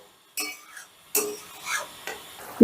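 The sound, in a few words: spice paste with yogurt being stirred and fried in a pan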